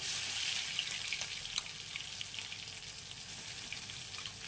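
A spice paste frying in hot mustard oil for a gadal pata (bhadali leaf) dish, a steady, bright hiss of sizzling that runs evenly without pause, close and moderately quiet, with no talking.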